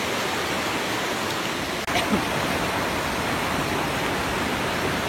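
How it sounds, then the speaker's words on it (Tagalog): A waterfall sends up a loud, constant rushing roar that fills the whole scene. It is close and unbroken, with no talk over it. "Tubig."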